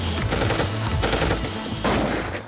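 Machine-gun fire is aimed at caves in a military firefight, with dense rapid bursts of shots in several volleys that run almost without pause, loud and close.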